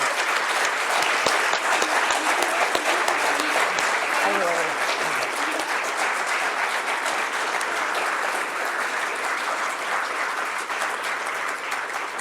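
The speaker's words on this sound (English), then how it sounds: "So please, a round of applause for those young people without whom we wouldn't be here." Sustained applause from an audience at a conference closing plenary, a dense steady wash of many hands clapping at close range for over twelve seconds, with a few voices calling out briefly underneath.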